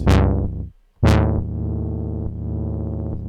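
Synthesizer notes played in Kontakt with reverb applied: two bright, loud tones with sharp attacks, the second sustaining and slowly decaying, with no voice present.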